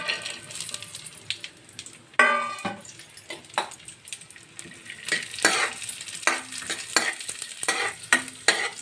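Cashews and raisins sizzle and crackle in hot ghee, with steady frying hiss and repeated sharp scraping of a spoon stirring them in the pan, loud and close throughout.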